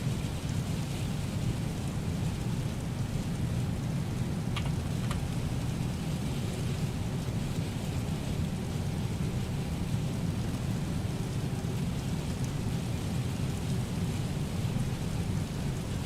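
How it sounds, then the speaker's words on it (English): Heavy rain in Microsoft Flight Simulator during a night flight pours down in a dense, constant roar with a low rumbling undertone, loud and unbroken throughout. "Rain is gushing down."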